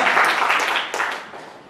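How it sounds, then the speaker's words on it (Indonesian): A church congregation bursts into lively applause during a sermon, many hands clapping loudly together, then quickly fading out within two seconds. "tepuk tangan yang meriah"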